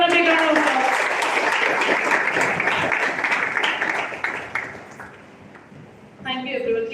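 Students at a college orientation give a big round of applause, loud, dense clapping from a large hall that fades away, then a voice speaks over the last traces.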